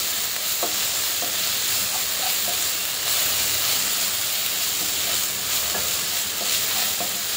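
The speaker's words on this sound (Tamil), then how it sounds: "நல்லா பார்த்திங்கன்னா வெங்காயம் தக்காளி எல்லாம் நல்லா வதங்கி வந்துருச்சு." Chopped onions and tomatoes sauté for a Tamil-style prawn masala, with a steady close sizzle and hiss of frying in the pan and a few soft stirring scrapes, without talk.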